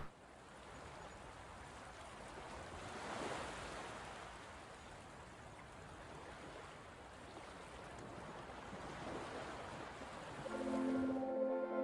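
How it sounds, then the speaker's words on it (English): Steady surf washes in continuously in a video game, a broad rushing roar of waves breaking on a beach, with a brief musical tone near the end. "from the silence, the crashing of waves"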